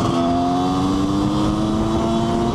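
Motorcycle accelerating hard along a road, a loud, close, continuous engine note rising steadily in pitch over a rough low rumble, with no talk.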